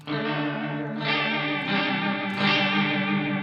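Electric guitar through a Walrus Audio Fundamental Chorus pedal with the rate turned up, sustained chords that shimmer and warble quickly with a slight wash of echo, moderately quiet and alone.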